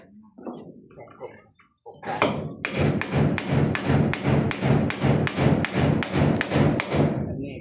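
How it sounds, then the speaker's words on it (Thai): A few spoken words, then a fast, even run of about fifteen heavy hammer blows driving nails, striking close by. "ต้องเลยปะ ตอกเลย"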